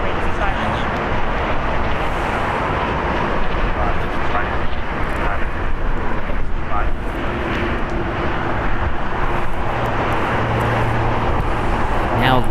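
Singapore Airlines Boeing 777ER on runway 25 right at LAX, bound for Tokyo, a loud continuous broadband jet engine roar holding steady throughout, with a voice talking over it.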